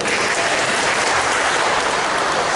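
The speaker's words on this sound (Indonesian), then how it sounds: "silakan tepuk tangan beliau" The audience at a national seminar gives loud, dense, sustained applause that fills the hall without letup, with no voices rising above it.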